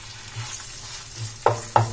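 Onion sautéing in a pan with ginger and garlic sizzles steadily while a spoon stirs, with two sharp clinks against the pan near the end.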